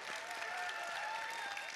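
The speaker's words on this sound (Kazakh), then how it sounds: "Мінекі, мына шапалақ сіздерге." An audience applauds in a dense, continuous burst of clapping at moderate volume, with a faint tonal hum running beneath it.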